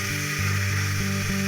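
Chopped vegetables hit hot spiced oil in a pan while cooking chicken pulau, giving a steady, loud, continuous sizzling hiss with a low tonal hum running underneath and no talking.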